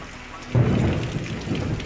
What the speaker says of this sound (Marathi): हे लकलकला परत आता गडगडताला